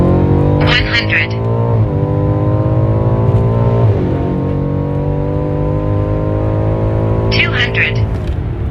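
A Stage 2 tuned BMW M5 Competition pulls hard from 100 to 200 km/h. The engine drone climbs steadily and loudly through several upshifts, with brief shift breaks. People talk over the engine near the start and again near the end.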